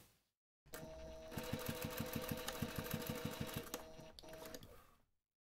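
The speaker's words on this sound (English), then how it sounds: "take this to the machine and baste those two straps to the back panel" A sewing machine basts backpack straps to a back panel in one close, steady run of rapid needle stitching lasting several seconds. It starts abruptly, pauses briefly near the end and then stops, with no talking.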